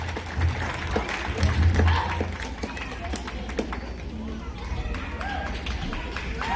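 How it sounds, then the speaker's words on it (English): A crowd at a Lummi powwow applauds the dancers, a steady wash of clapping and cheering lasting several seconds, with voices and shuffling mixed throughout. "Big round of applause for all of you dancers"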